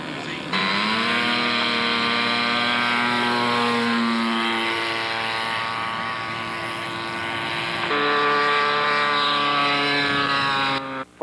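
Radio-controlled scale model Eurofighter Typhoon jet flying at a scale model competition, a loud sustained engine whine with shifting pitch as it passes, fairly close.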